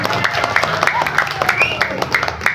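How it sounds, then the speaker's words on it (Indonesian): An audience at an Islamic religious gathering applauds, a mix of scattered, uneven claps from many hands beneath a speaking voice and light crowd murmur. "Tepuk tangan untuk sound system"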